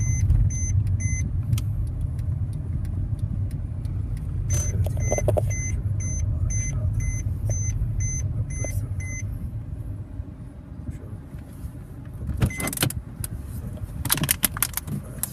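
A 2011 Mercedes C180 Kompressor 1.6 petrol engine idles steadily after an LPG conversion, a close, continuous low rumble with repeated electronic beeps early on and a few sharp clicks and rattles near the end.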